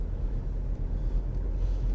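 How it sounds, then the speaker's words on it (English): One car passes another near a zebra crossing on a road in Herne Bay, heard from inside a moving car as a low steady rumble of engine and road noise with no distinct pass-by swell. "Car overtaking another car by the zebra crossings."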